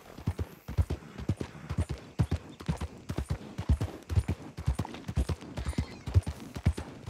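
Horse hooves clip-clop in a steady, even rhythm on a hard surface, fairly close, with no talking, in the video game Red Dead Redemption 2.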